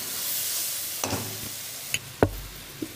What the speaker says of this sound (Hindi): अब इसके अंदर लहसुन अदरक का पेस्ट आएगा, ये 1 टेबल स्पून है